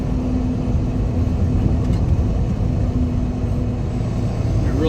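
A truck hauling a back trailer over a rough bridge-construction crossover, heard from the cab as a steady, loud, dense rumble with low road noise throughout and no clear pauses.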